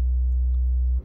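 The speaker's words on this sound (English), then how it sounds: "And we just looped it, so now it sounds like this." A looped 808 bass sample, sustained by the NN-XT sampler in Reason, drones as a steady, loud, deep tone for about a second before cutting off abruptly, alone with no speech.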